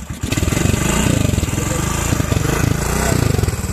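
A Honda trials motorcycle idles loud and close in a paddock at a classic trial event, its engine a rapid, steady, pulsing putter that holds throughout.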